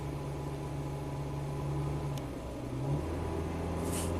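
A Hyundai car engine held under throttle, with a charging-system fault that has it replacing alternators yearly, gives a steady close drone with a brief pitch shift near the end, and no talk.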